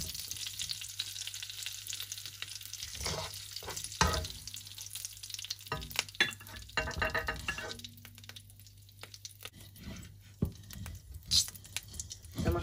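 Onion and garlic sauté in hot oil in a wok, a steady near sizzle with bursts of stirring and scraping from a utensil, alone without talk.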